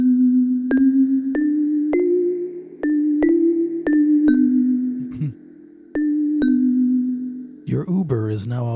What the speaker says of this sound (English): Sounds like a doorbell.